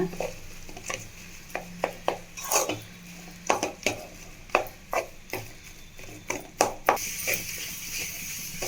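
Vegetable cutlet masala mashed and mixed in a pan, with a steady series of close scraping and tapping strokes of a utensil against the metal, a faint sizzle underneath and no talking.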